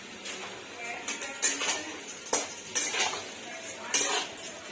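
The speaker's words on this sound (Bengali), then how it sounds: "এখানে মা আমগুলোকে কড়াইতে দিয়ে দিচ্ছে" Dried mango pieces, salted and coated with turmeric, tipped into a wok and stirred, giving repeated metallic scrapes and clinks of a utensil against the pan at close range.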